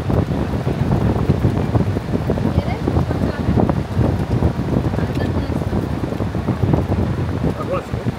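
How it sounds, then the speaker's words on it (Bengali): Sea waves wash in at Digha Udaipur beach with a rushing, crackling surge under steady wind buffeting the microphone, loud and continuous throughout. "সেই সঙ্গে আরও জোয়ার আসছে, এক একটা ঢেউ আসছে"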